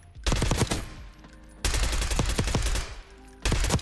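Three bursts of rapid automatic gunfire in a Black Ops 6 firing range, each volley loud and close with sharp repeated shots, separated by short pauses.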